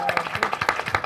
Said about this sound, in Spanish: Un aplauso para Sofía